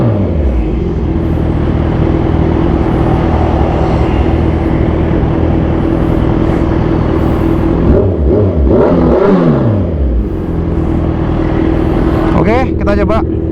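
A fully modified 2014 Kawasaki Z1000 Sugomi motorcycle holds a steady, loud, close engine roar on launch control at 5000 RPM, with rising and falling rev sweeps near the end.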